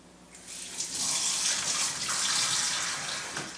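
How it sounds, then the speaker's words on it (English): Tap water runs steadily into a sink during handwashing before making sourdough bread, a broad close rushing splash that swells after the first second and holds for a few seconds with no talk. "First, we wash our hands."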